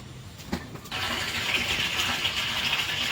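A farm water pump motor starts up partway through and then runs with a steady, loud whirring hum and a rushing water-like hiss, after a quieter opening with a few knocks.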